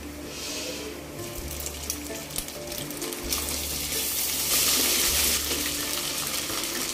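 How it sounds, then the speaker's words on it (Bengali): Ginger garlic paste added to fried onions in a hot pan for a hilsa biryani, producing a steady close sizzle and crackle with occasional clinks, growing louder toward the end, no speech. "পেঁয়াজটা ভাজা হয়ে গেছে, এর মধ্যে দিয়ে দিচ্ছি 1 টেবিল চামচ আদা রসুন বাটা।"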